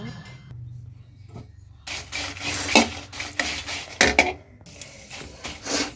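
About fifteen dry red chillies frying in a little oil in a pan, close scraping and rubbing of a spatula over a soft sizzle, in bursts with brief pauses.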